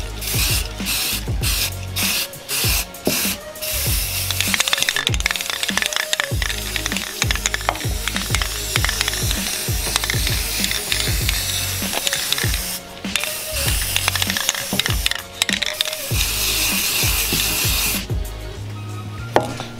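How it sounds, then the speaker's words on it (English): Pans being sprayed while making homemade sunglasses: repeated short hissing spray bursts, close and fairly loud, mixed with clicking, ratchet-like mechanical sounds throughout. "So we're gonna give them a little spray."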